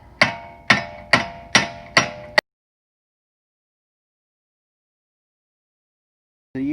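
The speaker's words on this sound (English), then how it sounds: "you make it flush with the axle shaft, and then you hit it with a hammer" Five sharp metallic hammer blows strike a car's axle nut in a quick even rhythm, close and loud, followed by a long silence.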